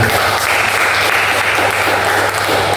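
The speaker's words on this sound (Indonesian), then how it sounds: "terima kasih sudah berikan tepuk tangan" Group applause from participants in a group counseling session, a dense and steady clapping close by that stays loud and even throughout with no talking.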